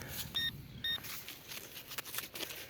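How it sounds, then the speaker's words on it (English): Metal detector signalling on a buried wheat penny: two short, bright electronic beeps a moment apart over faint outdoor background, with no talking. "Just got that classic wheat penny signal"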